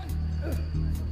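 A German Federal Police squad dog barks during a dog-handling demonstration, giving a few short yips and woofs under a voice speaking nearby.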